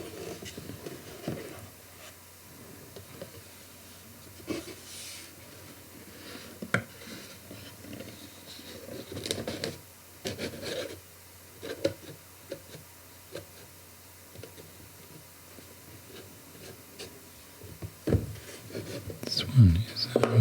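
An empty Rode mic cardboard box is handled up close, with soft taps, rubs and crinkly scrapes scattered under quiet whispered talk.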